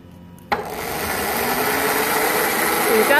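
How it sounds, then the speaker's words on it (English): An electric motor on a senior-design eddy current dynamometer for Formula SAE kicks on abruptly and runs at full speed near 250 RPM, a loud steady whir with a rising hum. "We've got the motor running at full speed."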